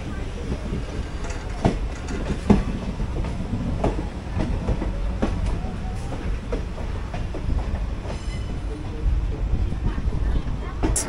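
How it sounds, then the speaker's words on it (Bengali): Another train rolls into Bandel Junction station, a low rumble with irregular clanks and clickety-clack thumps of wheels on rail joints, heard from a nearby platform or train amid ambient station noise. "ট্রেন আরেকটা ঢুকছে এদিকে।"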